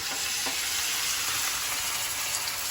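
Kangkong hits a very hot pan of oil, almost deep frying, giving a loud, dense, continuous sizzle with a brief stirring knock at the start.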